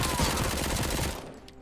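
Rapid gunfire in RoboCop: Rogue City, a dense burst of repeated shots that rattles steadily, then cuts off and fades into quiet after about a second.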